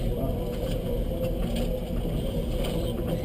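A tractor runs steadily with its vineyard tools working, including trimmers, giving a continuous low mechanical drone and rumble up close.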